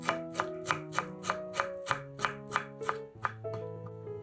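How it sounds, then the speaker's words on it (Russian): A knife chops a bunch of dill on a cutting board in a steady quick rhythm, about a dozen crisp strikes, close up, with soft background music. "Нарезаем пучок укропа."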